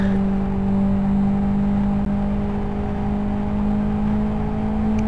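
A racing car in the Need for Speed video game drives along steadily with a constant engine drone and whine, loud and even throughout, with no speech.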